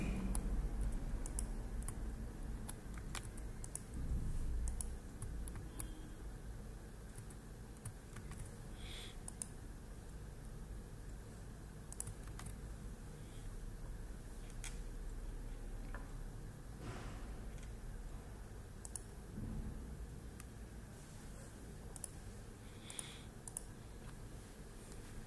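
Typing on a computer keyboard during an online class, faint scattered key clicks over a quiet room hiss, sparse and distant.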